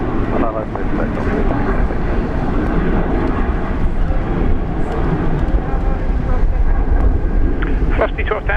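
A Velocity airliner takes off from runway 19 left at Brisbane Airport, its engines a loud, steady roar through the whole stretch, with voices talking over it.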